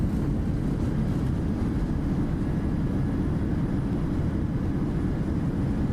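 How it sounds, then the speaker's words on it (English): Airliner rolling out after touchdown with reverse thrust engaged in Microsoft Flight Simulator, a loud, steady low roar of engines and rumble lasting several seconds without speech. "2 in the reverse. Here we go."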